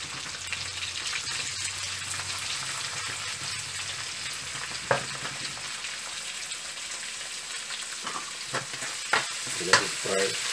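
Onion and green chilies frying in a pan for puri bhaji, a low even sizzle with occasional spoon taps and stirring knocks growing more frequent toward the end.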